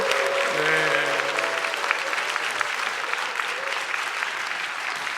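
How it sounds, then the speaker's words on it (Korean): A church congregation at a Friday worship service breaks into sustained, dense applause and cheering, loud and even across the whole span, with a few voices calling out. "우리 환호성과 박수로 맞이하겠습니다"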